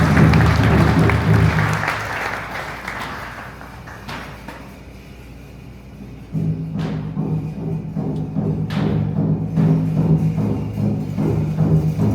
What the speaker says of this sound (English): Let's give Talia a round of applause for the hoop dance